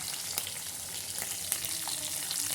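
Green chillies and curry leaves frying in hot oil in a home kitchen, a dense, steady close-up sizzle with small sputtering pops throughout.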